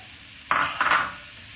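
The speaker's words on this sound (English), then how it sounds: "And now the flame is very high and we need to constantly stir it." Mushrooms stirred in a pan over a high flame, two quick metallic scrapes and clinks of a utensil against the pan, close and alone.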